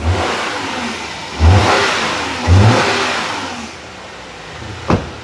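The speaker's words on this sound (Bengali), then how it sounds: "ইঞ্জিনের পিকআপটা দিয়ে দেখাই, ইঞ্জিনের সাউন্ডটা কিরকম," A Subaru car engine revs up close by in three sharp bursts, each throttle blip easing back toward idle, followed by a brief knock near the end.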